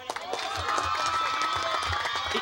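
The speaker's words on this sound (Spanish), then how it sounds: "ahí va el aplauso para toda la banda MS" Audience applause and crowd noise for Banda MS fill the space with steady dense clapping, while a voice carries over the top throughout.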